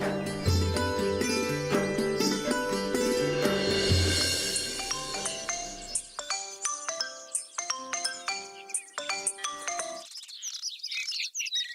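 A loud, bright electronic ringtone melody plays alone, its repeating chiming notes turning choppier with short gaps before fading out near the end.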